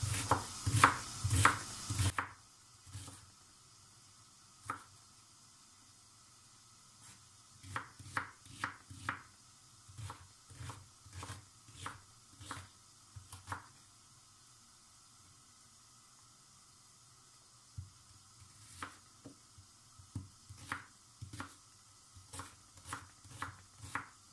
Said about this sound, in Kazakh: Етіміз қуырылғанша енді жуамызды, жаңағы пиязымызды тураймыз.